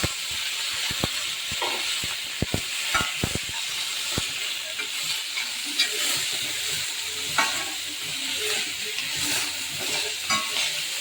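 Garlic fries in a pan before raw mango is added, a soft continuous sizzle broken by sharp clicks and scrapes of stirring, close and fairly quiet, with no talking.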